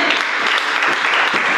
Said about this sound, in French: est-ce qu'on peut applaudir pour la femme?